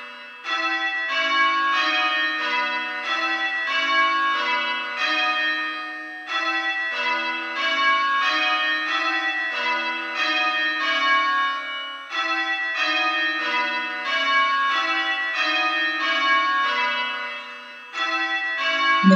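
Church bells ringing rounds during change-ringing practice, a steady repeating descending sequence of bell strikes in even rhythm, loud and close, with a brief pause between each round and no voices.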